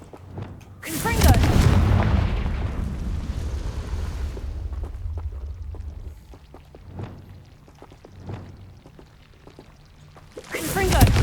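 Confringo fire spell explosions in the video game Hogwarts Legacy erupt with a big booming blast that rumbles and fades over several seconds, followed by smaller crackling hits and a second loud burst at the end.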